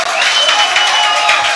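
Crowd at a Davis Cup tennis match applauding a cross-court winner, a dense, loud burst of clapping that holds steady for the short stretch.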